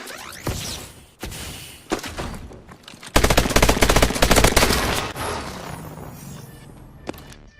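An IMR rifle firing in the Advanced Warfare video game, with scattered single shots and then a loud sustained rapid burst in the middle before trailing off into a few more reports.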